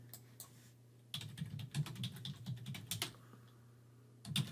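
Fingers type quickly on a computer keyboard in a burst of close, crisp key clicks over a steady low hum, pausing briefly before a last short flurry of keystrokes.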